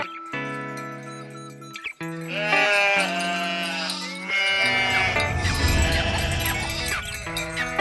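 Sheep bleating in several drawn-out, wavering calls that follow one another across the clip, loud and close, with no talking.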